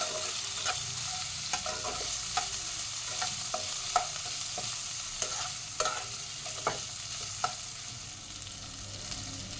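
Tomato frying in a pan with scattered utensil taps and scrapes as it is stirred, over a steady sizzle, recorded close with no talking.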